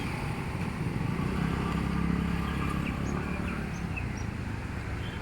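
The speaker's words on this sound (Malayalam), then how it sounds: "ഇവിടെയുള്ള വാഹനങ്ങളുടെ പോക്കുവരവുകളൊക്കെ ഒരു രക്ഷയില്ല." Road traffic passes at a busy accident spot near Malaparamba, making a continuous motor drone with motorcycles and cars going by and faint bird chirps above.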